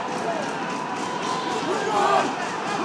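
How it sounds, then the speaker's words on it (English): A live MMA crowd roars and cheers during a Mix Fight Championship bout as elbows land, a steady loud wash of voices swelling near the end, with a commentator's voice woven in. "The crowd is losing it."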